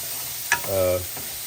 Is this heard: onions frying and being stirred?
yes